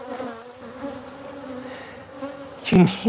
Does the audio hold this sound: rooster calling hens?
no